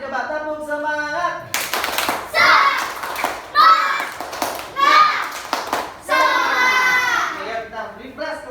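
Classroom children perform a rhythmic spirit clap in quick patterned bursts, separated by short chanted shouts and a teacher's voice, all close and lively in the room.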